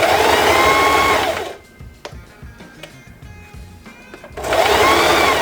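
A sewing machine stitching a belt bag runs in a loud, fast whirring burst, stops briefly for a pause filled with light clicks and handling, then starts up again at full speed.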